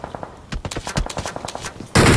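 Free Fire match with a rapid burst of gunfire, about a dozen quick evenly spaced shots that end in a loud, sustained blast of noise, close and intense with no talk.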